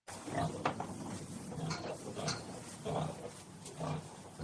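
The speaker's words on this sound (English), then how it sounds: "Pigs." Repeated pig grunts and snorts in short bursts, fairly quiet and steady in rhythm.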